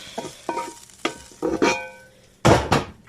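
Holiday stuffing ingredients, croutons among them, stirred and scraped around a pan in a few distinct close strokes, with a soft sizzle underneath and no talking.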